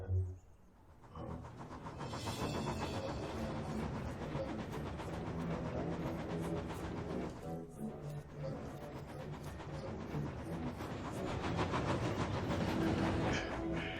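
A toy train hauling a heavy load runs along its rails on a hill, a continuous rumbling clatter with rapid rhythmic clicks that swells louder toward the end.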